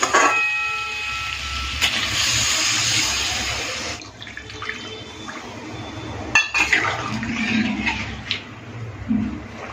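Water is poured into a pan of spice-fried potatoes, a steady splashing pour for several seconds followed by lighter gurgles and small clinks close by.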